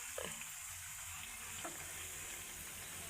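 Onion fritters (ulli vada) deep-frying in oil by a riverside, a constant bubbling sizzle that stays steady and close for a few seconds, with no voices.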